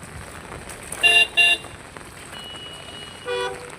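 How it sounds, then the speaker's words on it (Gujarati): Car horns honk on a busy rain-soaked highway: two short toots close together, then a third a couple of seconds later, over a steady wash of passing traffic. "હાઈવે ટ્રાફિક તો વરસાદના કારણે કેટલું ટ્રાફિક છે"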